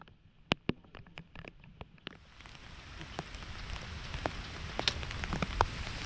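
Rain falls steadily on a surface near a papaya harvest, a soft hiss that swells over a few seconds, with scattered sharper drops pattering close by and no voices.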